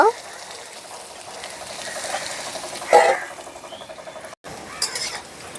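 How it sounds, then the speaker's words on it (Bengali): Potatoes frying and being stirred in a pan for a vegetarian mixed veg paneer dish, with steady close sizzling, scraping stir strokes and a brief louder clatter midway, under faint background talk. "আলুগুলো নাড়াচাড়া করে ঢাকা দিয়ে ভেজে নেব।"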